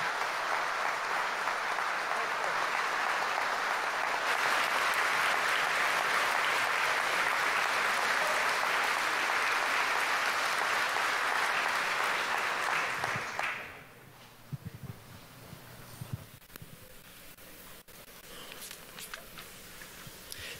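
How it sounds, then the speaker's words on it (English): A large audience at a high school graduation ceremony gives a long, steady round of loud applause for the graduates. The clapping holds for about thirteen seconds, then drops off abruptly to scattered footsteps and quiet room shuffling. "stand and give our graduates a big hand and applause"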